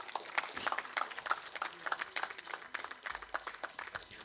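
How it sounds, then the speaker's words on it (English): An audience at a public talk on India and global affairs applauds to welcome a speaker onto the dais, a dense burst of many hands clapping at moderate distance, sustained for several seconds. "we welcome him with a big round of applause"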